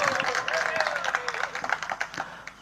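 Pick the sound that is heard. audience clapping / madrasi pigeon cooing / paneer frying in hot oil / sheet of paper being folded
audience clapping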